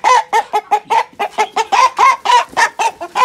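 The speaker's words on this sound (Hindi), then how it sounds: "मुर्गे को पकड़ते हैं" An Aseel rooster clucking rapidly and loudly up close, a steady string of about fifteen short, throaty calls with no pauses between them.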